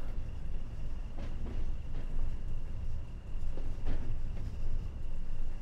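A 1989 British Rail Class 20 freight train in Train Sim World rolls slowly with a low, steady rumble and occasional faint rail clicks.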